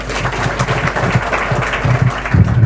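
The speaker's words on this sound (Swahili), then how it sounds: "Nikipigie makofi." Audience applause at a Kenyan political gathering, a broad steady wash of clapping with some low murmuring underneath, holding at even loudness throughout.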